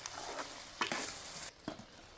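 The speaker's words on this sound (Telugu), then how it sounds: "గోంగూర వేసుకోవాలి ఒకసారి మొత్తం ఇలా కలిసేలాగా కలుపుకొని ఒక పది నిమిషాలు అలా స్టవ్ మీద సిమ్లో పెట్టుకొని వదిలేయాలి" Gongura curry cooking in a pan on a stove, giving a steady soft sizzle with a few brief scraping stirs, close and alone.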